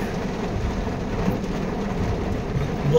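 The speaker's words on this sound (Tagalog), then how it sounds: "Walang tigil na pagbuhos ng ulan." Heavy typhoon rain pours down without letup, a steady dense roar of water that fills the whole clip at close range, with no voices over it.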